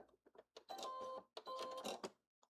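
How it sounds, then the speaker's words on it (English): A home sewing machine back stitches the corner of a blazer sleeve seam, with the bobbin winder left engaged: a few short whirring bursts, then two longer steady runs of mechanical stitching, close and fairly quiet. "I'm going to back stitch at the beginning"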